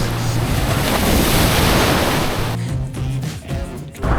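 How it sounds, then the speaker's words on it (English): Ocean waves at Port Beach in Fremantle on a morning, washing in as a loud, broad, continuous roar with wind buffeting the microphone, easing slightly near the end. "Port Beach Freo, one of my favourites, especially on a morning like this."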